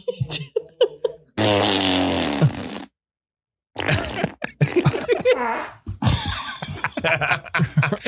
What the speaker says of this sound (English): Some of these are some diaper farts